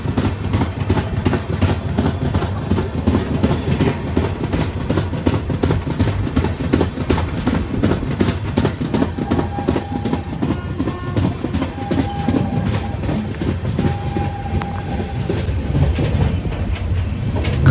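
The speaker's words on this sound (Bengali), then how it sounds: "এটাই হচ্ছে এলএসবি ট্রাক সাউন্ড।" An LHB-coach Shantiniketan Express runs through a station at speed, giving a loud, steady rhythmic clickety-clack of wheels over rail joints from inside the train, with a faint distant horn tone midway.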